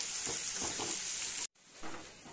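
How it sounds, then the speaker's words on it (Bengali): Chopped onion and green chilli frying in hot oil in a pan give a steady, close hiss that stops abruptly for a moment, then resumes slightly quieter. "এবার এই তেলের মধ্যেই আমি পেঁয়াজটাকে ভেজে নেব। পেঁয়াজ আর কুচানো কাঁচা লঙ্কাটা দিয়ে নিলাম"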